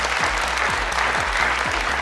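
Studio audience at a family game show clapping, a dense, even wash of applause that holds steady and fairly loud for the whole short stretch.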